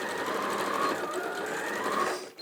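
A sewing machine runs steadily at close range, stitching the side seams of a Burda kids jumpsuit top in a continuous buzzing whir before stopping abruptly at the end.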